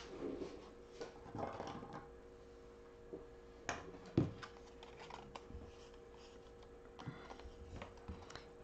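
Scissors snipping through paper for a stamping craft project, a scattering of soft, close clicks and rustles at irregular intervals, with one sharper snip midway and quiet pauses between cuts.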